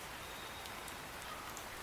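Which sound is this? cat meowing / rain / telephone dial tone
rain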